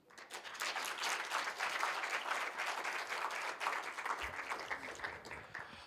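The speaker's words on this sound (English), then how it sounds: "Can we give him a round of applause once more?" Applause after a closing presentation at the launch of a university global health workforce centre, a steady wash of clapping from the audience, faint and somewhat distant, tapering slightly near the end.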